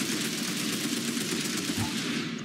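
Rapid, sustained automatic gunfire from a gun in a shooting video game, dense and continuous bursts throughout.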